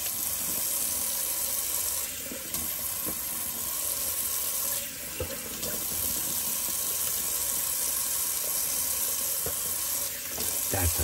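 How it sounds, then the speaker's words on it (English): Tap running steadily for a cold water rinse after a shave, a continuous close splashing hiss over a sink that carries on without pause for the whole stretch. "cold water rinse, and it's gonna be cold"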